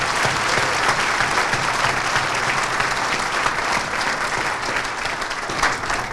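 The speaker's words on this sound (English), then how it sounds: "he deserves a round of applause" A luncheon audience honoring a county official breaks into sustained applause, a dense, even roar of many hands clapping throughout, moderately loud and unbroken by talk.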